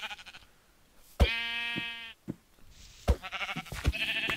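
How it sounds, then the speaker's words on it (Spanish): Sheep bleat in a Minecraft-style game, two loud drawn-out bleats with shorter game sounds around them and no one speaking. "Mira, aquí hay más ovejas."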